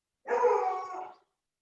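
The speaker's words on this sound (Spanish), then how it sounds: "tengo el perro ahí que ladra como siempre para no perder la costumbre" A single close dog bark, loud and drawn out for about a second, alone against silence.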